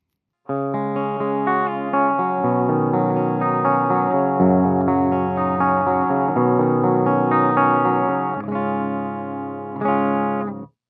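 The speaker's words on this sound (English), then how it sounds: "so we are on the clean channel of the PRS MT15, and we are in the bridge position" A Fesley FSG350 electric guitar on its bridge pickup, through the clean channel of a PRS MT15 amp, plays a run of chords and single notes, bright and twangy, ringing steadily for about ten seconds before stopping.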